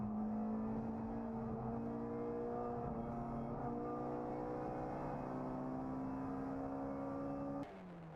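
Racing cars at Rockingham circuit, a Seat chased as a Mini powers away, their engines a steady loud droning whine with rising pitch, cutting off abruptly near the end.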